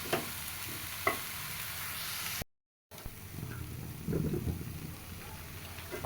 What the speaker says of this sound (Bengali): খুব সুন্দর মতো মশলার সাথে তরকারি মশলা দিয়ে ভালো মতো মিশানো হয়ে গেছে